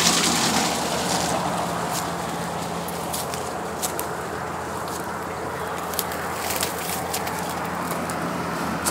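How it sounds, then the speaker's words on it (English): Pond runoff draining from a wetland into a grate beside a lakeside road, a steady close rush of flowing water throughout with faint scattered clicks. "it's draining out of the wetland, or the pond, into this grate"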